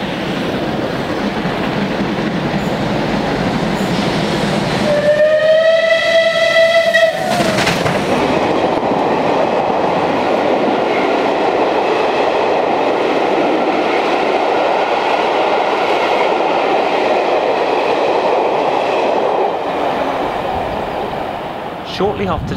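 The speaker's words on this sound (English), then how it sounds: "the British Pullman train headed by Clanline crosses the River Thames at Richmond." Steam locomotive 35028 Clan Line hauling the British Pullman train near the River Thames at Richmond, sounding a loud horn-like whistle blast over a continuous rumble and clatter of rolling carriages, close and sustained.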